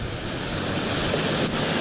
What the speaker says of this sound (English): there's a bigger waterfall down here